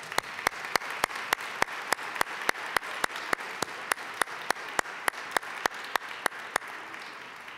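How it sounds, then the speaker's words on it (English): Applause at a conference keynote, heard as a steady wash of crowd clapping with one nearby pair of hands striking loud, evenly spaced claps, about three per second, throughout. "Please, one more time, a round of applause."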